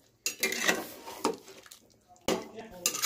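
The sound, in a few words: stirring mutton curry gravy with a spatula in a pot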